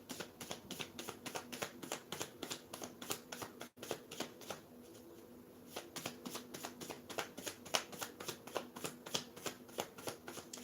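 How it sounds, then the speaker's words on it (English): A deck of cards being shuffled close up, a steady run of rapid riffling flutters repeating in quick bursts across the whole stretch with no talking. "So the cards actually come out of the deck."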